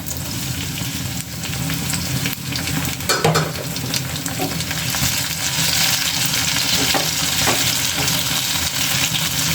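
Tomatoes, about three, sizzle and fry steadily in a pan for a soybean curry, with occasional stirring scrapes over a continuous loud hiss, no talking.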